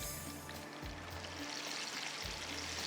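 Fish dropped into a small pan of hot oil, giving a steady broadband sizzle and hiss that holds throughout, with low bubbling surges underneath, close and fairly loud with no talking.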